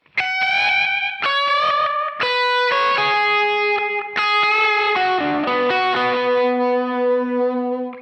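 Electric guitar through a Red Panda Particle granular delay pedal, playing a melodic lead with chords and sustained notes, thickened by shimmering, textured repeats that blur into a continuous wash, loud and close with no talking.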